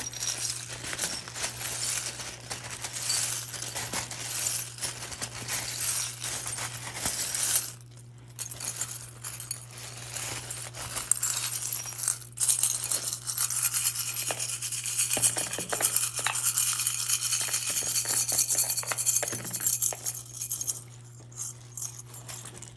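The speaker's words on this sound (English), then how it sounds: "And these are my charms. Let's do a good shuffle." Small metal charms clink and rattle together in a steady, busy shuffle for a long stretch, with a low steady hum underneath.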